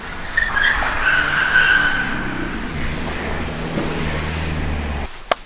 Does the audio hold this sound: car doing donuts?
yes